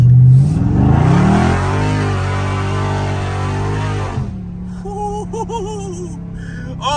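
A Dodge Scat Pack's V8 revs hard and climbs under load as the car slides through a turn, a loud sustained roar that cuts off abruptly, leaving a lower idle rumble with faint squeals after.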